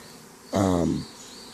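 A single short buzzing burst from bees in a swarm being caught, loud and close for about half a second, then fading back to quiet.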